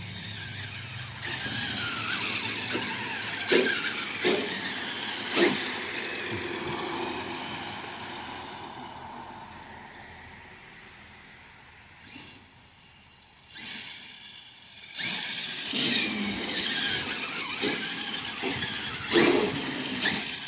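A remote-controlled car drives with servo steering, its small motor whining and squealing as it speeds up and slows, with sharp clicks and bursts from the steering and tires, fairly close.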